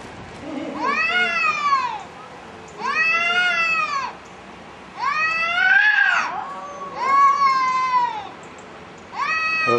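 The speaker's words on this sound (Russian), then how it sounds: "Тунисские коты." Cats in Sousse, Tunisia meow loudly and close by, giving about five long, drawn-out wailing calls with short pauses between them and no talking.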